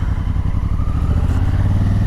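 A motorcycle engine runs during a rider training session, a loud steady close-up drone with slight throttle pulsing throughout, no talking.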